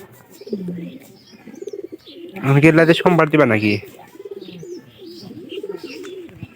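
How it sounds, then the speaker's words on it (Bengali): Pigeons coo around a home kitchen while dal is cooked, their low rounded calls recurring near and moderately loud between and under a woman's chatty speech. "এই যে কবুতর গুলা খুব ডিস্টার্ব করতেছে"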